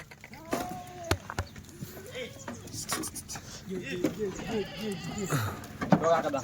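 Kathiawadi dairy goats arriving by vehicle, bleating several times in wavering calls at moderate distance, interspersed with sharp knocks, clattering and people talking nearby.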